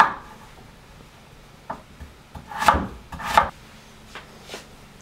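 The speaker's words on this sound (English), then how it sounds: "I peeled the beetroot and also cut it to nice little, not squares, cubes" A knife chops peeled beetroot into small cubes on a board, giving a handful of irregular, crisp knocks with quiet gaps between them, close and fairly soft.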